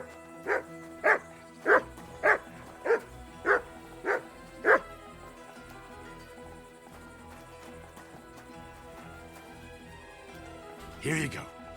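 A dog in the video game Kingdom Come Deliverance 2 gives eight evenly spaced barks, close and loud, followed by a quiet stretch and a brief whine near the end.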